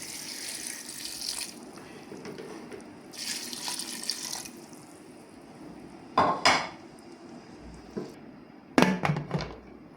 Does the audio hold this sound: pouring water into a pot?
yes